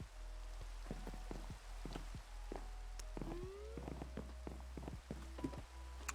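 Soft, steady rain ambience from a virtual tabletop game patters quietly throughout, with many scattered droplet taps over a low, constant hum.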